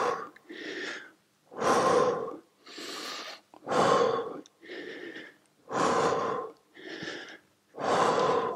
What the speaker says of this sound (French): Je souffle en bas, j'inspire quand je remonte.